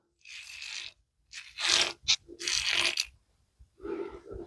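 Close, crisp scraping strokes of a razor shaving the neck, in several separate bursts with short silent gaps between them.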